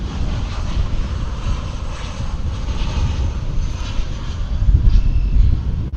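A oneworld special-livery airliner rumbles past at DFW Airport, its engine roar steady and broad, swelling slightly louder toward the end with no talk over it.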